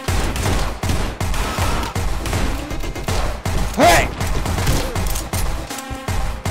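Pistol fire in the Anger Foot video game, a dense run of loud, sharp shots in quick, uneven bursts, with thuds and clatter mixed in close up.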